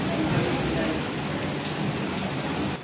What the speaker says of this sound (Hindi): देखोगे ये देखो कितनी तेज बारिश आ रही है।